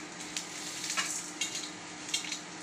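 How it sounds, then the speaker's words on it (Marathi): Asafoetida and garam masala fry lightly in hot oil with a steady, close hiss and a few soft stirring clinks over a short stretch. "हिंग तळून घ्यायचा आणि गरम मसाला सगळा गरम मसाला तळून घ्यायचा"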